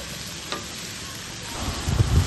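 Onions, chillies and ridge gourd pieces frying in hot oil for a ridge gourd milk curry, giving a steady close sizzle with stirring scrapes growing louder toward the end.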